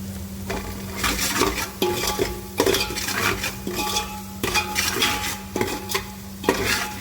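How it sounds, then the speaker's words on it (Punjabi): A spoon scrapes and clatters against a pan as masala roasts for Punjabi-style egg masala pasta, with a rhythmic series of metallic stirring strokes over a faint sizzle and a low steady hum, no talking. "ਮਸਾਲਾ ਗਿਆ ਭੁੰਨ ਆਪਣਾ"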